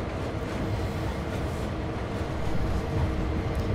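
Freight train with an SD40 locomotive in Train Sim World 2, a steady low rumbling engine drone with rolling mechanical noise, swelling slightly louder toward the end, with no voices.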